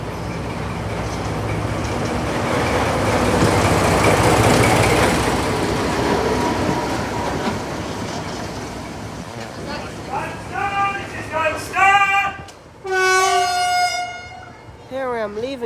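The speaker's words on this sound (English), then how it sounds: "Here I am leaving Dunster Station on D9526, heading back towards Minehead on the 9-minute journey." Class 14 diesel locomotive D9526 pulls a heritage train away from Dunster Station on the West Somerset Railway, with a heavy, steady engine rumble giving way to several bright horn toots near the end.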